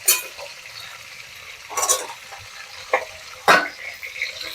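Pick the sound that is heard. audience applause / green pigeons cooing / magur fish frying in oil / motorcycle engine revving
magur fish frying in oil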